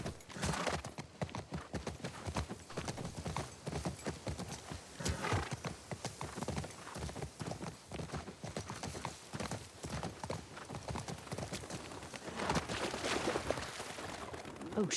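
Horse hooves in The Last of Us Part II clip-clop in a fast, steady galloping rhythm, close and continuous, with occasional soft snorts over a faint background.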